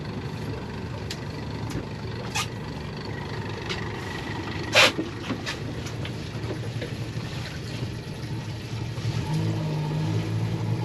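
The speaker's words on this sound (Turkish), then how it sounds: "Motorun sesini bile özlemişim Cenk." A fishing boat's engine hums steadily at low pitch on a winter fishing trip, with water and wind noise around it and a brief louder knock partway through.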